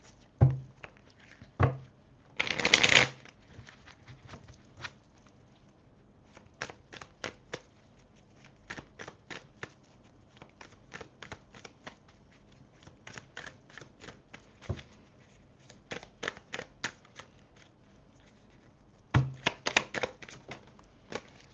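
Tarot cards are shuffled by hand in a long run of quick, crisp riffles and taps, with louder bursts of card flutter near the start and end, close up and without talk.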